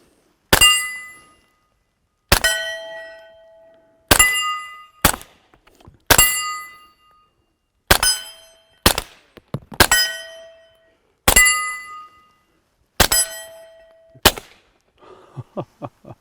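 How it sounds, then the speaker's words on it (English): Suppressed subsonic 9mm fire from a Glock 17 and CMMG Banshee with 147gr plated bullets hitting steel targets: eight sharp shots spaced about two seconds apart, each followed by a bright ringing clang, with faint knocks at the end. "Let's ring some steel."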